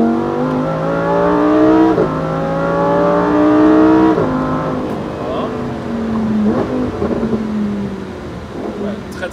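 A Lamborghini Huracan STO accelerating hard on a race track, its engine rising loudly through several upshifts heard from close inside the car, then easing and blipping further on.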